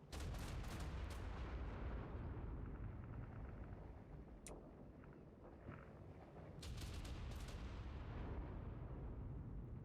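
Dense video-game gunfire barrage rumbles continuously in a boss fight, rapid cracking bursts at the start and end over a thick roaring low-frequency wash, with a calmer stretch in the middle.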